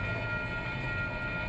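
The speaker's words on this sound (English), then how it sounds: "Okay, we got a train coming." Train pulling into Brewster station on the Hudson line, a steady rumbling drone with a sustained tonal hum, fairly close and continuous with no talk over it.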